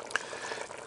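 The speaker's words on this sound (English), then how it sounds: "So we got her bubbling along there right now." Tomato sauce with pork steaks simmers in a Dutch oven over a propane burner outdoors, giving soft, faint bubbling with a few small pops.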